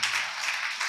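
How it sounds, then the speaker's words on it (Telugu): Congregation clapping hands together at a church gathering, a dense steady wash of many hands applauding at once with no voices over it. "చప్పట్లు కొట్టండి."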